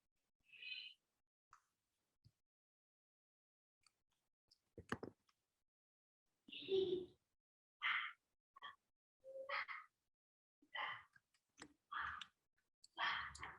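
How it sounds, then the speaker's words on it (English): Sparse, irregular clicks and taps, faint and scattered with short pauses, like keys being pressed now and then. "So apparently some people are typing"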